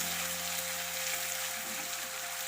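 Onions frying in a pan give a constant, bright sizzle and hiss, close and even across the whole moment, with no talking.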